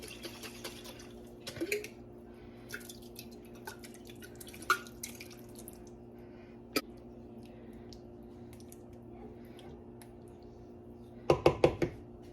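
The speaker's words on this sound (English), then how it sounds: "I'm going to add a little water to pour the rest on top." Water swirled in a glass sauce jar and poured out over a budget family meal: sparse, quiet drips and light taps spread across the stretch, then a brief cluster of louder clinks and splashes near the end.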